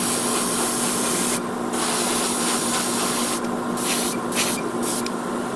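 Short bursts of spray paint hiss as gray is applied to the trim of a 1/100 Master Grade Build Strike Gundam model kit, one longer burst followed by several quick puffs over a steady background hum.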